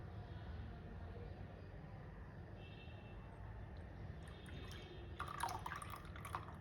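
Milk poured into a cup while making Maharashtrian coffee with nutmeg: a faint liquid trickle and dripping under a steady low background hum, growing a little brighter toward the end, with no talking.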